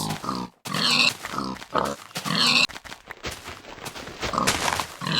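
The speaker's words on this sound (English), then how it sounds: "There's more pigs, see what I mean?" Pigs in the video game Minecraft grunt and oink repeatedly in close, loud bursts, several calls overlapping in quick succession with short gaps between them.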